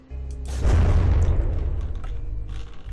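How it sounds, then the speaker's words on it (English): A huge, booming explosion in the video game From the Depths, a heavy low rumble that swells quickly, holds loud for about two seconds, then trails off with scattered crackling debris. "there is a huge explosion"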